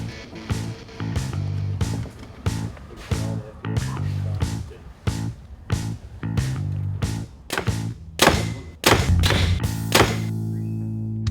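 A Prime Rivex 4 hunting bow is shot repeatedly, giving a series of sharp, close thunks and thuds at an uneven pace, with tonal ringing and background noise between the releases.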